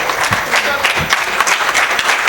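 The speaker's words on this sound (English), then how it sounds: "a big round of applause for sir" Audience applause at the inaugural session of a two-day tax conference, dense steady clapping from a hall crowd throughout, loud and close.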